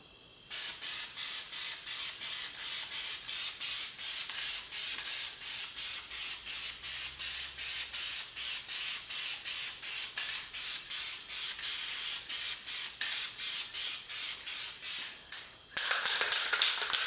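Dupli-Color CustomWrap rattle cans spray paint onto a truck in a steady, close hiss, broken into short regular bursts by brief pauses, with a louder burst at the very end.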